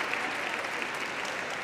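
A graduation ceremony audience claps in a brief, even burst of applause, a uniform crowd texture that holds steady for the short moment.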